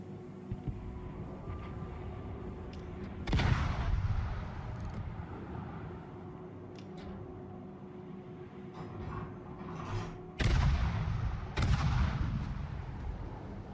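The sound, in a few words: naval guns firing in video game World of Warships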